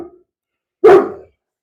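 A single short, loud dog bark close by, following a brief faint sound and then silence.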